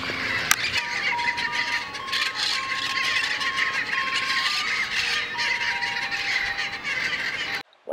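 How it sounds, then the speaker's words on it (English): Birds squawk loudly and persistently outdoors on a Sunday morning, a dense, harsh chorus of overlapping calls close by that fills the whole stretch. "These damn birds won't shut up."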